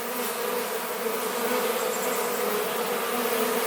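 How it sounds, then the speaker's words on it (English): Honey bees swarm around a homemade top bar hive as they are installed, a dense, steady buzzing drone filling the air close up, with no voices. "Most of the bees are out of the box"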